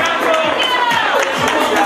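Crowd applause at the San Silvestre race awards in Cadreita on New Year's Eve, a dense stretch of rhythmic clapping and murmuring amid general outdoor crowd noise.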